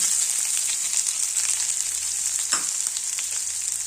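Chopped onions, a dry red chilli and curry leaves fry in hot oil for a puri and junka palya meal, giving a steady close sizzle with small pops and crackles throughout.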